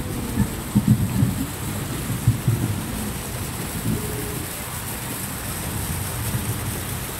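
Heavy rain pours in a steady broadband hiss, with a few low rolls of thunder swelling underneath near the start. No one speaks.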